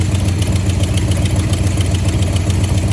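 A 1979 Cadillac engine that sat for 27 years idles with a steady, slightly pulsing low rumble, close and loud, with an exhaust leak adding a rhythmic ticking chatter throughout.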